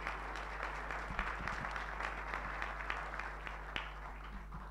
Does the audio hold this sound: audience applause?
yes